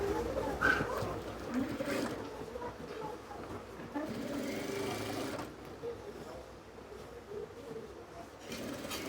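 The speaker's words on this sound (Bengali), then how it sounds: "এখন আমরা উপর দিয়ে টপসিং দিয়ে নেব।" A sewing machine topstitches the collar band of a kameez, whirring in steady close runs with a brief lull partway through, while a voice talks over it.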